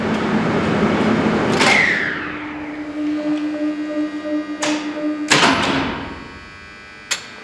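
Doors of a ZREMB licensed passenger lift, faulty and slow to open, slide and clatter with several sharp thumps as they start and stop, over a steady motor hum in an enclosed shaft.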